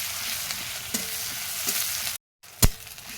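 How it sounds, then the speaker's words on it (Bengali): Onions frying in hot oil with bay leaf and dried chilli, a continuous close sizzle with light stirring scrapes, briefly cut to silence before a sharp utensil knock near the end. "পেঁয়াজটাকে লাল লাল করে ভেজে নেব।"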